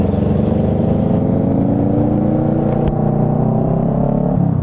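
A Kawasaki motorcycle engine rumbles loudly nearby, revving with a steady, throaty drone that rises slightly in pitch.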